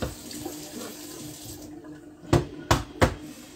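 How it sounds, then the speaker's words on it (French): Tap water runs into a bowl as rice is rinsed, a steady close trickle followed by three sharp splashy sloshes near the end. "le fait de rincer le riz, c'est important pour votre cuisson."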